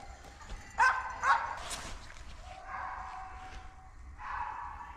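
Hunting dogs chasing a young roe deer during a big-game hunt, a couple of sharp barks up close followed by longer, fainter baying cries carrying from a distance in open country.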